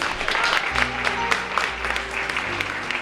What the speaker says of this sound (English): Let's give another round of applause for Mr. Cruz.